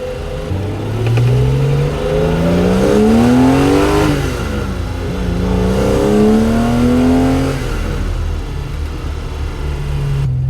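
A BMW E9 coupe with an S38 engine revs up through the gears, rising in pitch with each pull, then easing off and climbing again, close and loud with no talking.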